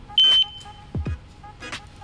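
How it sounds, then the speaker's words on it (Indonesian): A Riken Keiki GX3-R Pro gas detector sounds a brief, sharp high-pitched buzzer alarm, followed by faint clicks and handling noise nearby with no talking. "Ada buzzer volume, jadi ada 2 stage untuk kekerasan suaranya"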